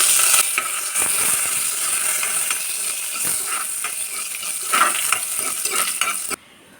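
Dried red chillies and curry leaves sizzle in hot coconut oil with mustard seeds and fenugreek, a close, continuous crackling fry with stirring scrapes that cuts off abruptly at the end.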